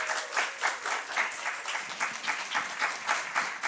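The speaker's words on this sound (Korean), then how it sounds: "우리 전도사님 나오실 때 크게 박수 해주시죠." A church congregation at a Friday worship service claps in rhythmic unison for a minister coming forward, fairly faint with a steady beat of roughly two to three claps per second.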